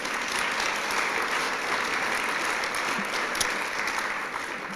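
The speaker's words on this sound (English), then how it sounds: "How about another big round of applause?" Sustained, even audience applause at a service dog class graduation ceremony, a dense crowd of hands clapping steadily throughout with no voices over it.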